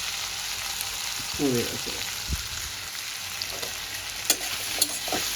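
Potato and capsicum sabzi with salt and turmeric is stirred in a pan over a steady low sizzle, with a few clinking, scraping strokes near the end and a brief spoken remark.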